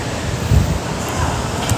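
Strong night wind buffets the microphone on a beach with rough surf, a steady low roar with gusty thumps throughout, surf blending into the rumble.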